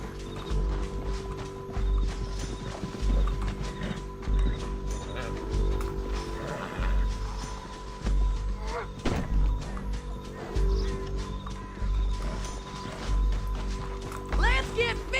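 Horses gallop in Red Dead Redemption 2 as riders flee down a canyon, hooves thudding in a steady rhythm under continuous talk, with creaks of tack and a sharp knock partway through.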